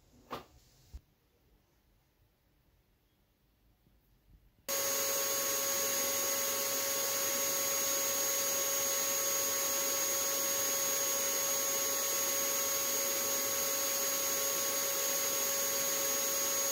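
A power tool bites into wooden frame pieces to cut a 25 degree chamfer, starting after a few seconds of quiet with a couple of soft knocks, then running as a loud, steady whine with a constant hum.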